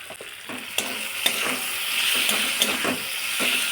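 Boiled hog plums tossed into oil with reddened garlic and chilli, a close, fairly loud sizzle that swells midway, punctuated by several sharp stirring scrapes and clinks, with no talking.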